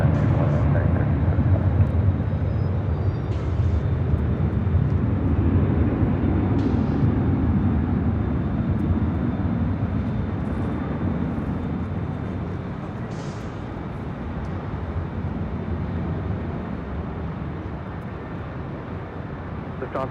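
A Delta heavy airliner takes off from runway 24 left at LAX, giving a loud, broad, continuous jet roar that holds steady, then eases slightly toward the end, with no talk over it.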